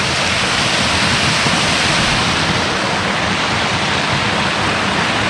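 Waterfall rapids at a fishing spot in Nova Floresta, Roraima, roar as a loud, steady broadband rush of falling water, continuous and close throughout with no other sounds standing out.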